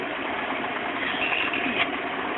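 A cryostat motor driven by a foot pedal runs with a steady, buzzing whir much like a sewing machine, close and continuous throughout.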